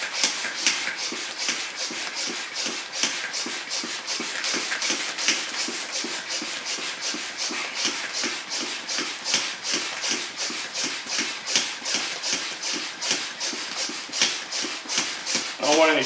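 A hand pump pulls air out of a home storage vacuum bag, making rapid, regular rubbing, rasping strokes that repeat steadily, about two or three per second, close up and fairly loud.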